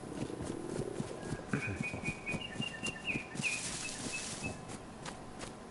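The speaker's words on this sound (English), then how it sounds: "I hear birds." Birdsong in the survival game DayZ: a few thin chirps and whistled calls flutter in mid-distance over steady clattering footsteps and ambient game noise, with no talking.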